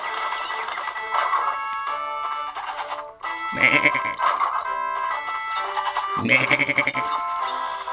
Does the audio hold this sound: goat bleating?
yes